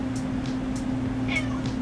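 A hungry cat meows for food, giving several short, close meows in quick succession over a low background hum.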